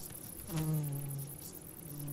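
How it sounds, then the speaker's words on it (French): Wild pantaloon bee foraging on wild chicory flowers, giving a brief, faint buzz that rises for under a second and then hums on quietly. "L'abeille à culotte a une passion exclusive pour le pollen de la chicorée sauvage qui ne fleurit que le matin."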